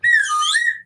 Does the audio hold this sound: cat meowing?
no